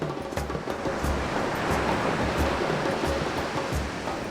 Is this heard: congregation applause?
no